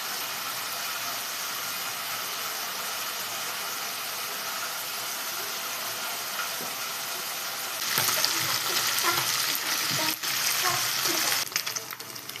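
Fish fries in a pan with a steady, close sizzle that grows louder and busier near the end, broken by a few sharp clinks.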